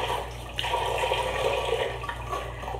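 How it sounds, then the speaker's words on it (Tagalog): Running water splashes steadily during a face rinse in a nighttime skincare routine, a faint continuous wash of sound with a few brief sharper splashes. "So, banlawan ulit natin."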